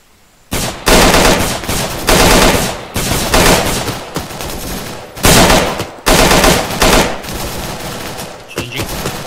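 Loud, close bursts of automatic gunfire in a MAC-V SOG operation video game, several sustained volleys in a row, each a dense rattling stream separated by short pauses, with no talk.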